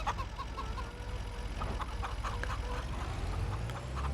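Farm chickens clucking in Farming Simulator 25, a steady cluster of repeated fowl calls around a farmyard with a carport, moderately close over a continuous low engine-like rumble.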